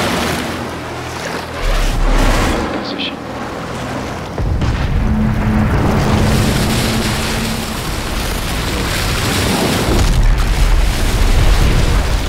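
In Modern Warfare 3, explosives breach a surfaced submarine at sea with a heavy, loud boom that rolls into a sustained low rumble, layered over constant ocean waves, wind and boat noise.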